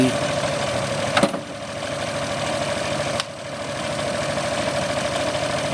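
Suzuki F6A engine in a multicab with a misfire that stalls after short runs, idling steadily up close with a continuous low rumble, interrupted by two brief sharp knocks.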